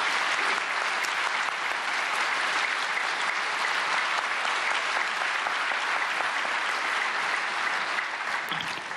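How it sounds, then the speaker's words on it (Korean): An audience at a Christian prayer meeting for peaceful reunification applauds to welcome a speaker to the stage, loud, dense and sustained without a break for the whole stretch. "나오실 때 큰 박수로 환영해 주기 바랍니다."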